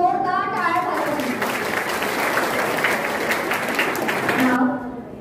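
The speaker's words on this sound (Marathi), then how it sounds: "मॅमसाठी तर जोरदार टाळ्या झाल्या" Loud audience applause during the Satyashodhak team's visit to MIT college, a dense sustained burst of clapping that starts after a brief voice and fades out near the end.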